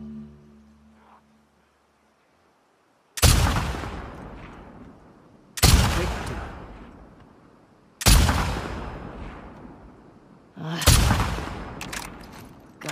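Rifle fire in the video game The Last of Us Part II: four loud, separate shots a few seconds apart, each followed by a long, fading echoing tail.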